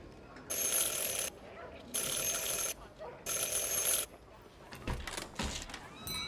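A bell rung three times in the video game Syberia The World Before, three loud, bright ringing bursts of nearly a second each with short gaps, followed by footsteps and faint movement.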